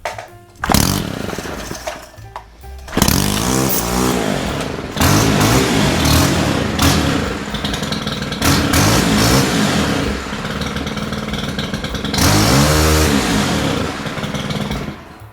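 A STIHL string trimmer is started and revved repeatedly, with several bursts of loud, close two-stroke engine whine rising and falling between short pauses.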